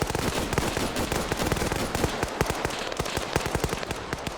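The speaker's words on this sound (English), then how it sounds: "I'm going to let him do the shooting" Dense rapid gunfire from the video game Arma 3 crackles nonstop, many overlapping sharp shots in quick irregular succession, loud and steady throughout with no talk.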